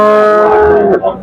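A cow at a livestock market lets out one loud, close moo that holds for about a second before breaking off.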